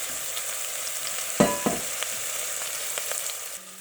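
Meatballs browning in a frying pan for Mexican albondigas soup give off a steady, even sizzle, with a few brief louder crackles and spatters near the middle.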